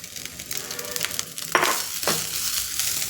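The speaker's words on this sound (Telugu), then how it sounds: "కొంచెం వేగనిద్దాం చూసారా ఆయిల్లో నేతిలో భలే వేగిపోయింది" Curry leaf powder and rice fry in oil and ghee with a close, bright sizzle and crackle, with scraping stirs and two louder hissing surges midway.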